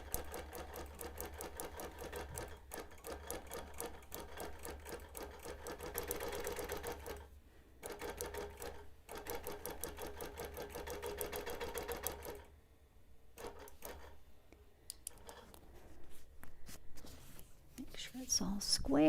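A sewing machine runs in fast, rhythmic bursts as it stitches fabric, with the already-stitched fabric being pulled to draw it under the needle; brief pauses break the runs, and soft handling noises sit underneath.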